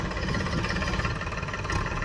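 A tractor engine runs steadily at close range, a dense, continuous low rumble with a rough knocking texture and no pauses.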